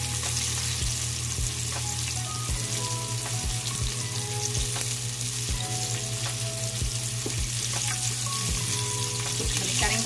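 Fish deep-frying in hot oil, a dense steady sizzle and crackle that fills the whole stretch, with a series of sharp low knocks and clatters from the pan or utensils every second or so.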